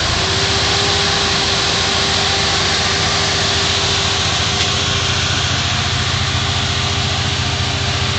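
A Toyota Aristo with a swapped-in 2JZ engine idles on its own, a loud, steady engine drone with a faint whine on top that holds without a break.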